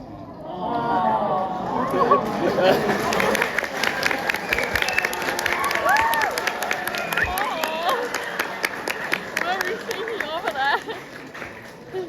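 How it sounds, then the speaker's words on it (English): School assembly crowd clapping for Year 11 in a sustained, dense round of applause with some cheering, while voices talk over the top. "Fitting round of applause as I hand over to your year team"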